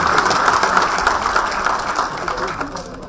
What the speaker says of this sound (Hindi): जोरदार तालियों से माननीय गुलाब जी का स्वागत करें